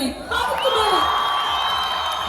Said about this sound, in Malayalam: അവരെ കാണിക്കാൻ വേണ്ടി അതിക്കും മേലെ ഒരു കൈയടി